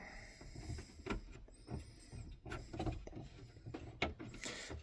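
Pry tool working around the seams of an original Xbox One case, opened for the first time in 11 years: faint scraping and plastic clicks and creaks in short irregular bursts, close and quiet.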